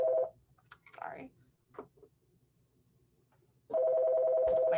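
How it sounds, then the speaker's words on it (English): A mobile phone rings in a lecture hall, a repeating electronic ringtone that sounds loudly at the start, falls silent while faint sounds pass, then resumes at full strength near the end. "my phone's going off."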